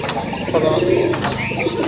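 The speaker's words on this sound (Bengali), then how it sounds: "ওই যে মাদিটা কবুতর দেখায় আপনাদেরকে" A pigeon coos in soft, low repeated notes close by, amid a Rajshahi pigeon-keeping scene, with people talking over it throughout.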